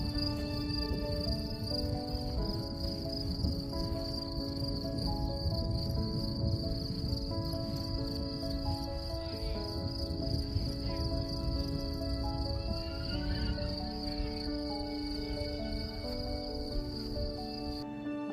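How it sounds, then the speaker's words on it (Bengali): Crickets chirp steadily in a valley of the Sibillini mountains, with a constant high trill that runs unbroken for many seconds, fairly faint over low wind and ambient rumble. "একটু প্রকৃতির ঝিঝি পোকার ডাক শুনে আসি"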